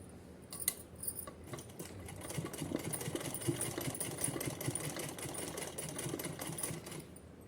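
A sewing machine runs steadily, stitching a small doll-size dress for a Kanha ji idol, with a continuous fast mechanical whir and needle clatter throughout and no voices.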